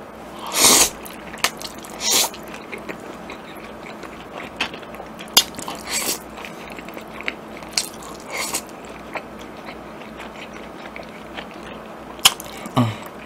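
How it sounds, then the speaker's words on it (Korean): Jajangmyeon black bean noodles are stirred and mixed in a large bowl, with wet squelching and sticky slapping sounds in irregular bursts, loud and close. "이 짜장면 이 비빈 소리에 시청자분 되게 좋아하거든"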